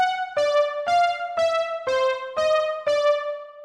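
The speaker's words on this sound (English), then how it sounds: "we have a score called timbre keyboard that sounds like this." A keyboard score with a rich, bell-like timbre plays six clear, sustained harmonic notes in an even rhythm, each struck note ringing into the next, close and alone.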